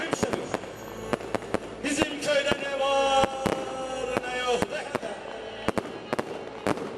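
Fireworks at an outdoor snow festival concert in Başçiftlik: repeated sharp bangs and crackling bursts, some in quick clusters, over a steady background of crowd noise and music.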